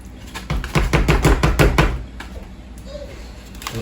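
Thick bee candy mixture spooned into a newspaper-lined form under a feeding shim, a quick run of close, dull scraping knocks in a steady rhythm, then a quieter stretch with faint handling.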